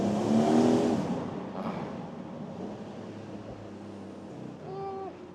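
A Porsche 911 GTS Hybrid driving at speed, its engine note loudest at the start and then settling into a steady hum with road and wind noise from inside the car, with a brief tonal whine near the end.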